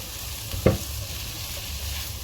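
A spoon scrapes through a pan of Turkish pide filling seasoned with oregano and parsley. There is one sharp scrape against a low, steady background hiss, and no voices.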